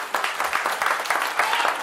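Brief burst of congregational applause in a church service, dense clapping from a gathered crowd lasting a couple of seconds at moderate loudness.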